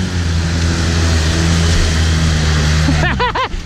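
An old Polaris Sportsman 800 ATV engine roaring loudly up close, holding a steady heavy drone before a burst of sharp, rising revs near the end.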